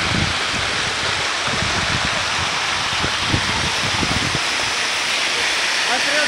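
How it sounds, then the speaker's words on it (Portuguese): Steady broadband rush of a waterfall in Pomerode fills the scene from start to finish, a constant close roar with scattered low thumps and rumbles beneath it. "numa cachoeira"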